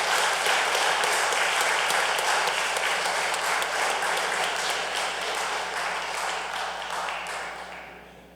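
Sustained applause from the audience at a Floyd County Board of Commissioners meeting, honoring an employee's 15 years of service, steady and dense throughout before tapering off at the end.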